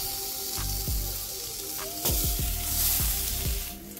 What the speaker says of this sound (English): Now let's get these onions on this griddle.